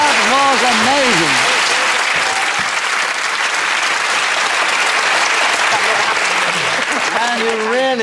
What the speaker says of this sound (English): you really deserve that resounding round of applause